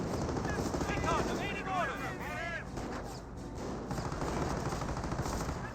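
Half-track machine-gun fire in the WWII strategy game Company of Heroes 1 crackles in rapid bursts amid broader battle noise, with voices talking over it throughout.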